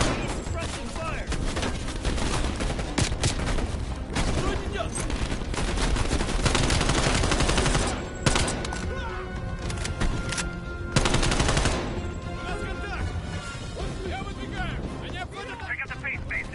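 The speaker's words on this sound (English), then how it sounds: "Suppressing fire." Heavy automatic gunfire in the Call of Duty: Black Ops Cold War shooter, loud sustained bursts of machine-gun and rifle fire with several brief lulls, voices mixed in among the battle.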